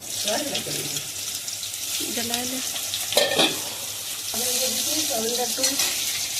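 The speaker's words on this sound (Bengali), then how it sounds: "লাল লাল করে ভেজে নেবো সয়াবিনটা লাল লাল করে ভেজে দেবো" Soybean chunks fry in hot oil for a vegetarian pumpkin and potato dish, a steady close sizzle broken by a sharp stirring scrape, with someone talking over the cooking.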